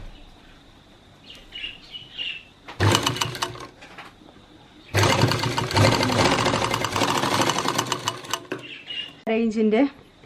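An electric sewing machine stitches the upper side of a cloth face mask in fast, rattling bursts of a few seconds each, loud and close, separated by quiet pauses with faint chirps.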